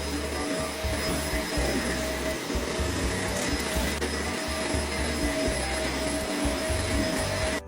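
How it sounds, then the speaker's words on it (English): A vacuum cleaner runs continuously while a room is being cleaned, a steady loud motor drone with a low rumbling hum, close and unbroken throughout. "Now, time to vacuum."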